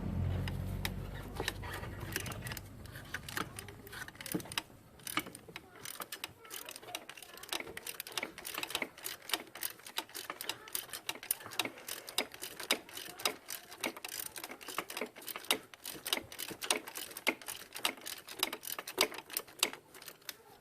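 Ratchet loosening a spark plug on a 2001 Ford F150 with the 5.4L engine, rapid close clicking in long continuous runs of pawl ticks, with faint background noise and little talk.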